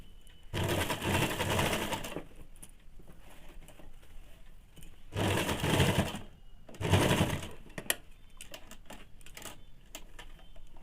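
Sewing machine closing a small hole near the front zipper of a ladies' pant, running in three short close bursts separated by quiet pauses with light handling clicks.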